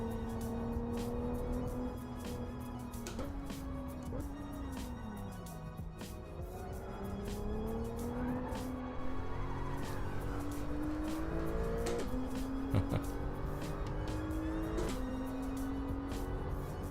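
A 2016 Porsche 911R (991) laps Laguna Seca raceway, its engine note rising and falling through gear changes with steady loud drone and occasional tire noise, heard continuously without talk.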